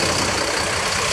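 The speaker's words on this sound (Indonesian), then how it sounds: "Bus sudah dipanasin, sudah siap ready untuk diberangkatkan." Sinar Jaya bus engine idling after warming up, a loud, steady, close rumble with no other sounds.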